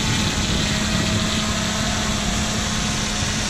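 Pegasus fishing drone motors hovering steadily in Hawaii, a continuous, even whirring hum that holds at a constant loud level throughout with no talk.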